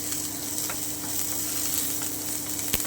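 Chopped onion sizzles steadily in hot oil while being prepared for a kalai dal bori bhorta, a close, even crackle with one sharp tap near the end.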